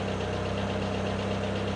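A car engine idles steadily after being started by a fingerprint reader, a low, even hum with a faint regular pulse and no voices.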